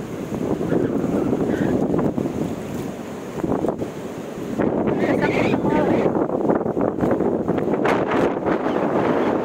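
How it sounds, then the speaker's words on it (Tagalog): Strong wind buffets and roars across the microphone beside crashing surf on a rocky shore, loud and continuous, with people talking faintly underneath. "Sobrang lakas man ang hangin"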